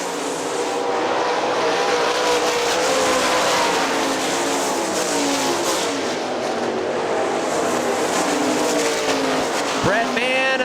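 Sprint cars race at Hartford Speedway Park in a Great Lakes Outlaw Sprint Series event, a loud continuous roar of engines as the field circles the track, with an announcer calling the action over it.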